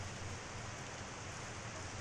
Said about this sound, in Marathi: हा बघा कसा पाऊस चालला आहे मस्त।